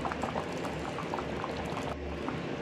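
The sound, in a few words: strawberry jam boiling while cooking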